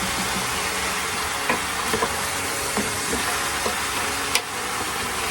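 Pork ribs frying in hot oil for adobo with a steady, loud sizzle throughout and several scattered clinks and scrapes of a utensil stirring the pan.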